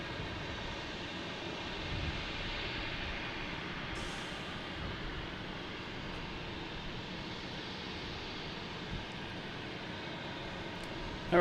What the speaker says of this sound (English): This is JetBlue coming in from Seattle,